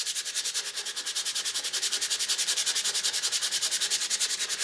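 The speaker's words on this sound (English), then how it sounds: "A little bit more coarse sandpaper first." Coarse sandpaper rubbed on a guitar headstock in steady, fast back-and-forth strokes, a close, even rasping rhythm that continues without pause and without talk.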